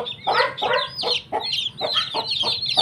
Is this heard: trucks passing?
no